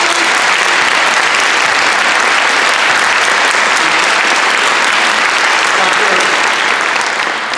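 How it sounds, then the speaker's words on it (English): A large audience at a middle school panel talk applauds loudly and steadily, a dense wash of clapping that barely lets up throughout. "please give a round of applause to our panelists"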